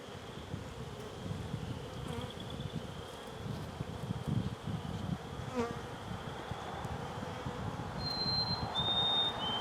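Honey bees swarm over a hive frame of drawn comb on black plastic foundation during a spring hive inspection, a steady close buzzing drone with a few sharper whines of individual bees passing near.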